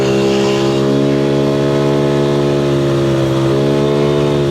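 A Yamaha Mio scooter with a 58 mm bore-up engine droning loudly and steadily, its pitch slowly climbing as it pulls uphill under strain, close up with no voices.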